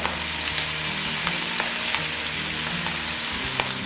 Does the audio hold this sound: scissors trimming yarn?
no